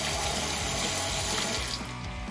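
Water runs steadily from a tap into an ice bath in a home brewing setup, a close, continuous splashing stream that stops abruptly near the end.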